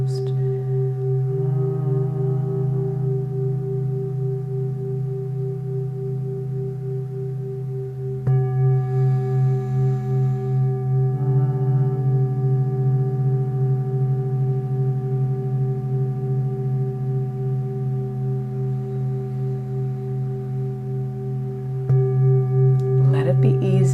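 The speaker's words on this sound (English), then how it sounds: "exhale, create the humming sound with the mouth closed" Steady, low humming exhales with the mouth closed during bee's breath practice in a chair yoga session, each hum a long sustained drone, with brief pauses for breath and a soft voice heard in between.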